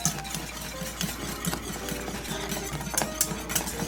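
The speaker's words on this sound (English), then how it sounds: "Whisk the mixture vigorously and let boil for a minute" A boiling clementine mixture gets whisked vigorously in a pot, with quick rhythmic scraping and clinking taps from the whisk over a low bubbling simmer, fairly quiet.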